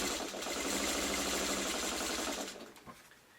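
A sewing machine runs steadily while stitching quilt blocks, a continuous close mechanical whir that stops near the end of the run.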